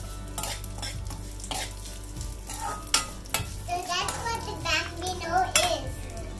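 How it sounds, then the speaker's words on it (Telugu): Roasted vermicelli fries in hot ghee in a kadai and is stirred, giving a close sizzle with scraping and clinking strokes. A voice and other talk come through partway. "ఈ ఘీ కాగుతున్న ఘీలో వేసేద్దాం."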